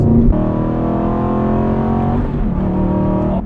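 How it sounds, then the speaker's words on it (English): Aston Martin Vantage GT exhaust rumbling loudly and continuously from close range, a deep throaty drone that eases and shifts pitch as the throttle lifts, with faint burbling toward the end. "Even get some little burbles on the overrun. It's just such a fantastic noise."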